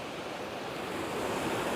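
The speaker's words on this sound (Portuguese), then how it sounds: "a ouvir a água agora, né?" Water and waves wash in a steady, continuous broadband rush, fairly close and even in level, with no voices over it.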